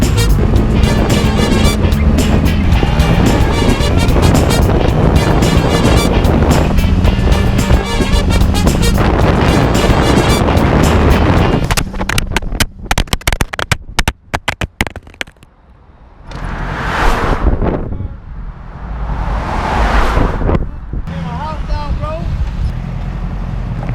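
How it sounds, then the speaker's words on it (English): A motorcycle engine roars loudly and continuously with wind rush while riding, then drops off and rises again in two revving surges near the end; talking is mixed in. "So here's some motorcycle footage."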